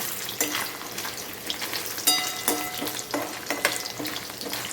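Paneer pieces fry in hot oil in a kadai for paneer makhani while being stirred, a soft bubbling sizzle broken by repeated sharp scrapes and clatters of the spoon against the pan at irregular intervals.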